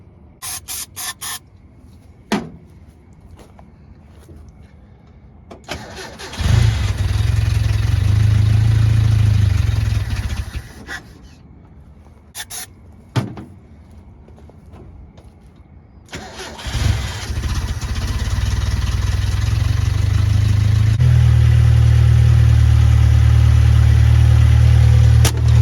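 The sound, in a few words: Datsun 521 car engine starting and running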